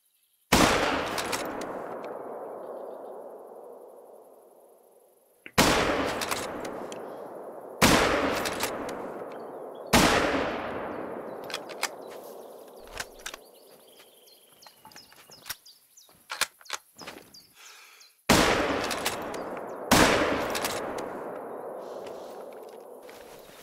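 Loud gunshots in a big-game hunting video game, five booming reports spaced several seconds apart, each trailing a long echoing decay, with softer clanks and footsteps between them.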